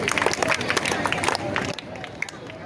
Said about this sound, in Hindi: जोरदार तालियां इन बच्चों के लिए।